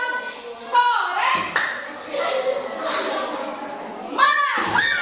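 Children in a classroom doing a rhythmic clapping game, sharp bursts of hand claps mixed with a teacher's voice and children's chanting, lively and close.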